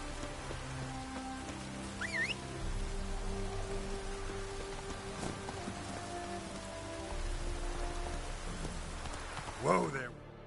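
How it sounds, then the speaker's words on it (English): Steady rain falling in The Witcher 3 game world, a continuous soft patter across the whole stretch with a brief louder burst near the end. "Looks like rain."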